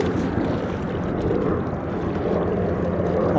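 Helicopter passing overhead during a fishing outing, a steady, loud broadband rotor and engine rumble mixed with wind noise that holds for the whole stretch without clear talk.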